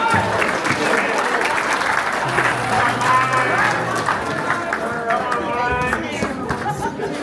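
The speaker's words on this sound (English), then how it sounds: "Round of applause for the Maota family." An audience claps and cheers for a family performance at a Samoan community show, with lively applause mixed with crowd chatter and voices, keeping up throughout.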